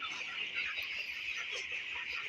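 Broiler chickens on a home poultry farm of about two thousand birds, a dense continuous flock murmur of clucking and chatter, steady and fairly loud throughout with no talk.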